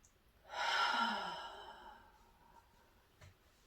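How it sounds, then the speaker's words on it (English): A single long, deep breath taken during a Seishin Tōitsu meditation session: one close, breathy exhale that swells, then slowly fades, followed by quiet. "One more deep breath."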